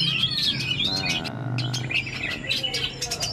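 Songbird G100 answers a rival bird, Macan Pahit, in a one-on-one singing contest at home, giving rapid bright chirps and warbling trills that repeat steadily across the clip, fairly loud and close.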